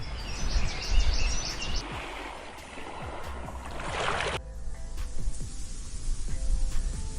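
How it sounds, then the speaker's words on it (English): Outdoor ambience in woods and mountains, with birds calling over a broad rushing wash, like wind or water, which cuts to a quieter, steadier background partway through. "I searched for a sound of birds in woods and mountains"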